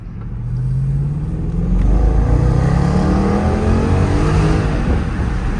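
A Range Rover Sport with a 5.0 engine revs up and pulls away, loud and close, its throaty roar rising in pitch over several seconds before settling into a steady drone.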